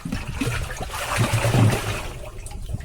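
Jaggery water is stirred by hand inside a 100-litre drum of water, giving a steady sloshing and swirling of liquid close by for a few seconds.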